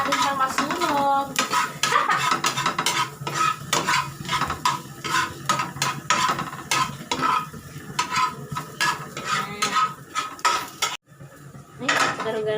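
Garlic fries in a pan while a metal utensil stirs it, rapid clattering scrapes and clinks against the pan over a steady sizzle, close and loud, with a brief pause near the end.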